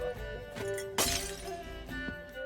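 An empty glass bottle shatters in The Witcher 3, a sudden bright crash about a second in that rings out over a low, steady game backdrop.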